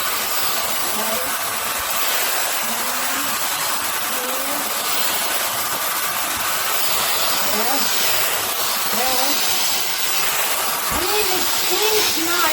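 A Neakasa Magic 1 portable garment steamer runs with its vacuum on, giving a steady loud hiss and airy whoosh throughout, with a person talking faintly underneath.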